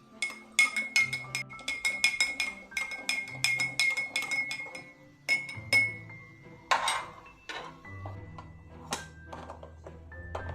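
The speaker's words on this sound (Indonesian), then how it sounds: "Dan jangan lupa untuk diaduk." A metal spoon clinks repeatedly against the inside of a glass in quick, bright taps, stirring water and salt with a few pauses and some heavier knocks.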